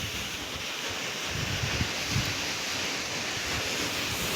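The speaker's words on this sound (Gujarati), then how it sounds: "અત્યારે કૂવામાં પાણી નાખે એટલે કૂવામાં પાણી નાખે ને એટલે એક ધારું પાણી હાલ્યા કરે" A steady stream of pumped water pours into a farm well, making a continuous, even rushing hiss that stays constant throughout, with no voices.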